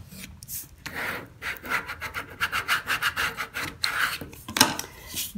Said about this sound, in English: you're gonna take a squeegee, so a credit card will do, and you're going to rub it